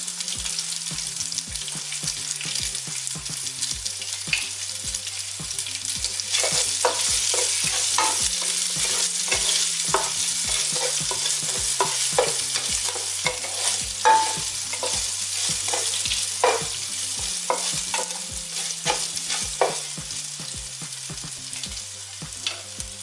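Onion, green chili and ginger sauté in a hot pan with steady sizzling and repeated scraping stirs of a spatula, continuous and close, with no talking.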